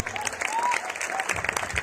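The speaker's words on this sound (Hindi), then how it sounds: "एक जोरदार तालियां" Applause rises at a corporate lifestyle company event in India, a short burst of clapping from a gathered audience, fairly dense and steady for under two seconds, with a voice faintly audible over it.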